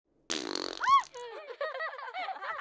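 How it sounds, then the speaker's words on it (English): A fart machine hidden in a chair plays a comical fart sound effect: a buzzy sputter that rises into a boing-like wobble and trails off in bubbly squeaks, clear and alone. "the machine played a little fart sound"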